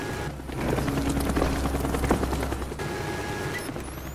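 Helicopter rotor drone in a Call of Duty Black Ops multiplayer match, a steady low throbbing hum under scattered gunfire and game effects, fairly loud and continuous.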